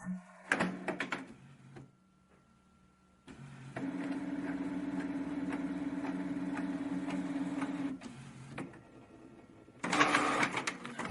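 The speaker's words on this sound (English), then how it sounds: "The printer will now activate the print cartridges and will print its test print in a moment." A Canon inkjet printer with a B200 error whirs and clicks as its mechanism starts printing a test page, then runs with a steady mechanical drone for several seconds, ending in louder rattling feeds.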